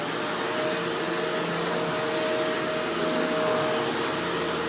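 A Shark Rotator Powered Lift-Away NV650 vacuum cleaner runs steadily and fairly loudly, a constant broadband whoosh with a faint motor whine held throughout, no voices.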